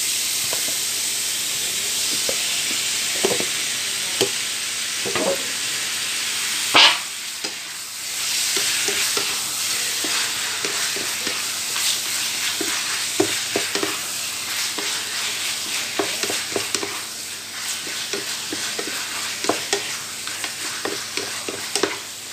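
Potatoes and pork fry in a hot pan with a steady sizzling hiss, while a utensil stirs and scrapes with frequent clinks and knocks against the pan.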